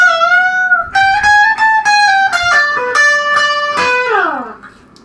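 Electric guitar slowly playing a solo phrase, clear sustained melodic notes with bends and a sliding fall at the end, loud and alone.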